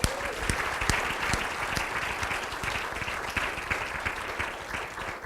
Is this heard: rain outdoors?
no